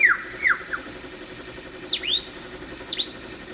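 A lyrebird mimicking the calls of other forest bird species, a series of separate bright whistled chirps and downward and upward swooping notes, clear and fairly close against a quiet background.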